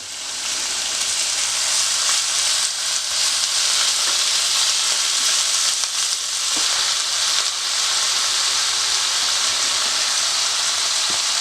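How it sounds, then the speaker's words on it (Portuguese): Shrimp frying in a pan with grated garlic for shrimp stroganoff, a loud, continuous sizzle with crackling spatters and light stirring, steady from start to finish with no talking. "em seguida vamos colocar 500 gramas de camarão"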